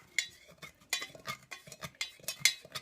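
Lye solution being stirred for soap making, a series of light clinks and scrapes of a utensil against a container in an irregular rhythm, close and fairly quiet.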